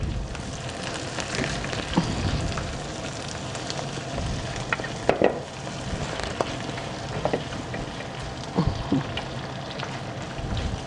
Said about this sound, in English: Now you can add the shrimps because the garlic is cooked and a bit crispy.